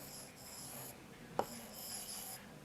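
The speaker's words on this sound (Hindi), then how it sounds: "तो जुगनू लिखते हैं" A pen writes the Urdu word jugnu, faint scratchy strokes with one small tap in the middle, soft and close in a quiet room.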